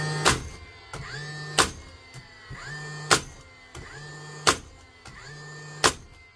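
A repaired cordless power tool on a fresh battery runs in repeated short bursts, each starting with a sharp click and a rising whine that settles into a steady hum, about five cycles in close succession.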